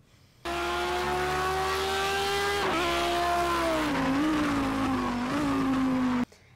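A Lamborghini Huracán race car engine in Project Cars 2 starts abruptly, holding a high sustained whine with slight pitch dips as it shifts, then cuts off sharply.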